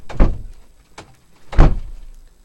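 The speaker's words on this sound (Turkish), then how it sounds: "Acaba ben şu kapıyı kapatayım." Three short thuds of a door being pushed shut, the first and last louder and heavier, with a lighter knock between them, close by.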